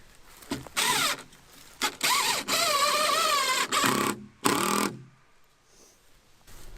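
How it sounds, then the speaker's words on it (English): A power drill whirs in several short bursts, driving screws into floor boards of a duck blind, each spinning up and stopping, close by, separated by brief pauses. "the first thing we gotta do here is screw down the floor"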